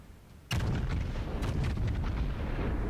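A loud heavy boom from the Yamato's main naval guns in a warship battle game, a sharp broadband blast that stays thick and rumbling, followed by further crackling shots and sustained low rumble for a few seconds.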